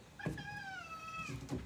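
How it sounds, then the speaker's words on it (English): Feral cats meow eagerly while being fed outdoors: one long, drawn-out, wavering meow is close and clear, and a second cry begins just as the clip ends. "let me put you inside the holder so you guys can see how excited these cats get"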